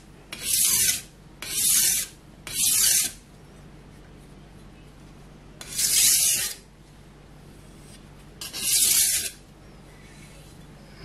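Knife blade drawn across a Naniwa or Shapton whetstone in five separate hissing, gritty strokes, close and fairly loud, with quiet gaps between them.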